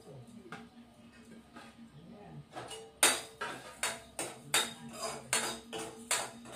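Whole cumin, coriander seeds and peppercorns tossed in a dry pan, a quick run of bright metallic clinks and scraping rattles, faint at first and then louder and regular, with a voice talking quietly underneath.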